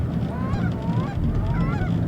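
Canada geese honk nearby from a flock on the water, with loud overlapping calls that repeat throughout over a steady rush of background noise.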